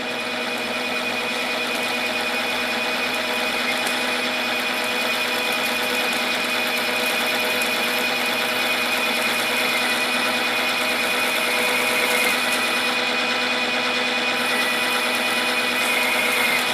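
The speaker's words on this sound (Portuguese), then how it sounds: "agora ele vai executar o furo de centro" A metal lathe drilling a center hole with a center drill held in the chuck, giving a steady, loud machine whine with a sustained tonal hum that holds constant throughout, close by with no talking.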